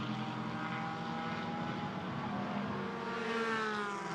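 A pack of GT4 race cars approaches the Parabolica at Monza, their engines blending into a steady, droning roar with layered tones that hold for about four seconds, moderately distant and without talk.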